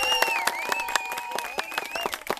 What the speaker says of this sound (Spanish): un aplauso, una bullita.